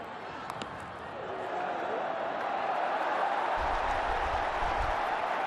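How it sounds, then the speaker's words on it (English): Cricket stadium crowd during an India vs Pakistan 2022 World Cup match, a broad steady roar of cheering spectators that swells and holds at a distance, with a low rumble joining toward the end. "The crowd are loving it."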